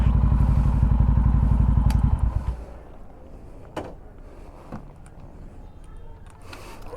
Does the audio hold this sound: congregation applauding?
no